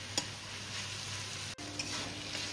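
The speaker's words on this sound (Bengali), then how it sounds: "এবার আমি শাকটাকে কিছুক্ষণ ভেজে রান্না করে নেব" Fourteen kinds of leafy greens fry in a pan with a steady, close sizzle, broken by a few brief stirring scrapes and one short dip in the middle.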